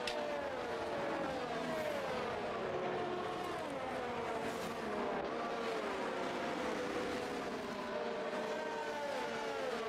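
Formula 1 racing game audio carries several high-pitched race car engines screaming and shifting pitch as they accelerate and pass, a dense continuous whine layered over a rumbling mix, with no talking.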